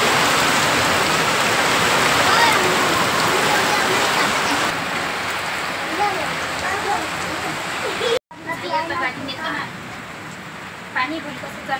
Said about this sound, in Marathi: एवढा चालू आहे पाऊस जोऱ्याचा